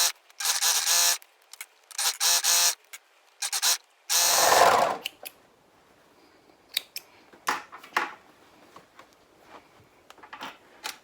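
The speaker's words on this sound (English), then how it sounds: "we're going to overlock those 4 side seams" An overlocker serges the side seams of a garment's outer and lining, running in three loud mechanical bursts of roughly a second each, followed by scattered quieter clicks and handling noises.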